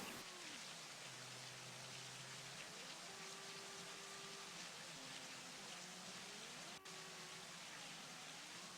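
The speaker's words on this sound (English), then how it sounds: "Rain still pelting down on the track's surface." Rain pelts down on the track in a racing video game: a faint, even hiss with thin engine tones drifting in and out beneath it.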